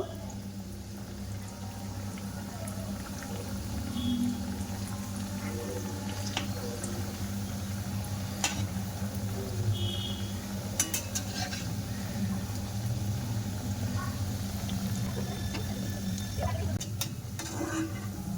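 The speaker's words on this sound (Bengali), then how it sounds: "দেখো মিষ্টিটা ভাজা করা হয়ে গেছে। এগুলো সব ভাজা করে নিয়েছি।" Small balushahi sweets fry in a pan of oil, a soft, steady bubbling sizzle with occasional clinks and scrapes, fairly quiet throughout and with no voices.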